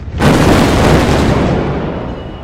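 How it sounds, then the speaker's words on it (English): The Beirut port explosion in Lebanon's capital, set off after a large fire at the port in the evening. It opens with an abrupt, very loud blast, and a heavy rumbling roar follows and slowly fades. "a colossal explosion ripped through the evening air"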